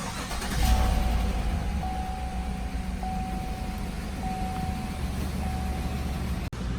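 A truck engine, freshly repaired after a broken valve spring, cranks and catches, then settles into a steady, moderately quiet idle that runs on with a faint whine above it.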